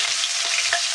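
Onions fry in a pan while radish leaves curry is being cooked, giving a continuous close, loud hiss of sizzling oil with no talk.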